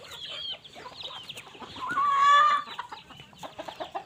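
Hens clucking close by in a farmyard, a run of short throaty clucks with one longer drawn-out call in the middle, fairly loud.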